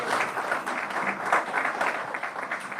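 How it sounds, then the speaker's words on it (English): Audience clapping at a building renaming ceremony, a brief burst of many hands applauding with uneven pulses, moderately loud and close. "You can clap."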